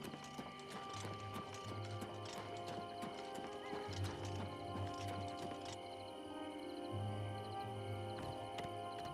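Quiet, repeated clip-clop of hooves trotting along in The Elder Scrolls IV: Oblivion Remaster, with a horse whinnying amid faint background noise.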